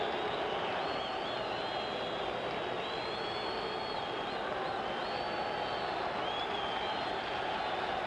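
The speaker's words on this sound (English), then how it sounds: "Listen to the crowd." A dense crowd roars steadily throughout the arena before the Jake LaMotta versus Bob Murphy boxing fight, a constant wash of distant cheering with no pauses.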